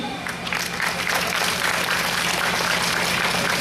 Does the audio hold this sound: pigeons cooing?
no